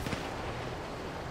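Gunfire in GTA Online erupts in a loud, dense burst of rapid shots that blur into one continuous roar, with no voices over it.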